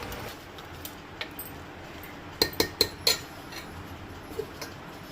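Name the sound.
mixing khatkhate ingredients in a cooking pot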